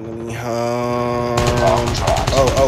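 Rapid automatic gunfire in the mobile shooter Call of Duty Mobile during a ranked Search & Destroy match, loud sustained bursts of shots following a held tone.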